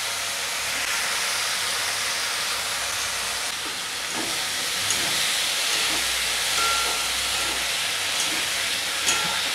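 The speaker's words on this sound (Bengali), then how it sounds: "বেগুনগুলো একটু ভাজা হবে" Eggplant fries in a pan with radhuni and black cumin seeds, coriander leaves and green chili, making a constant broad hiss close by. Faint clatter sounds now and then, and no one speaks.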